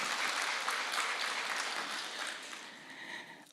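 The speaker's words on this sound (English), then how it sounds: "I would like her to get her own reserved round of applause." A conference audience gives a brief round of applause, a soft, steady patter of many hands that fades out after a few seconds.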